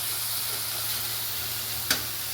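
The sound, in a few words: ginger-cumin and tomato spice paste frying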